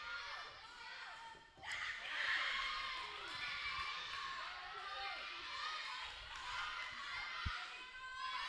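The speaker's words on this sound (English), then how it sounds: "the Thompson team has come back into the gym and cheering on this last match" Crowd noise fills a gym during a high school girls' wrestling tournament as the returning team cheers on the final match; sustained shouting and voices with a few thumps, loud and continuous throughout.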